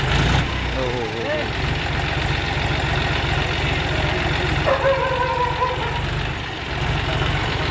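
John Deere tractor engine running steadily at idle, a continuous low rumble heard close, with people talking over it.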